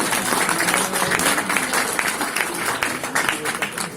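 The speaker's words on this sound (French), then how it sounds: "Vous pouvez vous applaudir d'ailleurs" A roomful of people at a New Year's greetings presentation claps steadily and loudly for about four seconds, a dense continuous patter of many hands with no voice on top.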